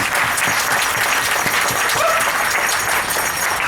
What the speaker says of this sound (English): Let's give a round of applause to the All Nations dancers.